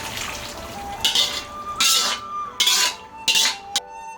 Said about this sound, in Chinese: 将烧好的牛蛙倒入砂锅中